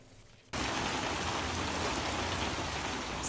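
Heavy storm rain in Albania pours down as a dense, steady roar of drops hitting surfaces, starting abruptly after a quiet moment and continuing loud and unbroken.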